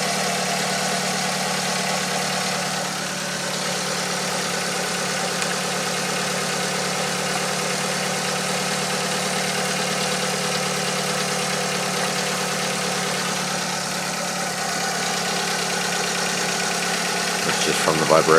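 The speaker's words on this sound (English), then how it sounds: "I just got to wait for the engine to heat up" A 2007 Kia Rio engine idles steadily on a cold day while warming up, a constant mid-pitched hum with faint vibration, heard close and unbroken throughout with no talking.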